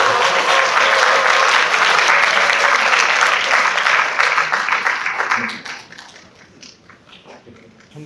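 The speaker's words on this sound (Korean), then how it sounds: "우리는 박수로 한번 격려해 보겠습니다" An audience at a church evangelist training session claps in encouragement, a dense, steady burst of applause that holds loud for about five seconds, then thins out and fades to scattered claps.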